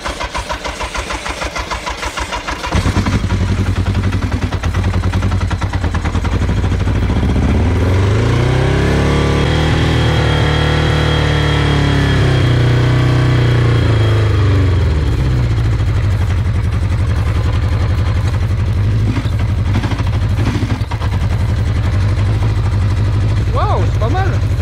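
An old, cheap motorcycle engine, out of fuel before, cranks at length with a pulsing starter whirr, then catches and settles into a steady, loud running drone that holds close and alone to the end.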